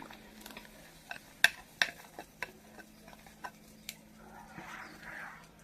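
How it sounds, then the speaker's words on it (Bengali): Spoon scraping and ticking against a pot as milk with rice flour is stirred for shahi firni, soft irregular clinks over a quiet background with faint bubbling. "এখন অনবরত নেড়ে থাকতে হবে, না হলে তরলে লেগে যাবে।"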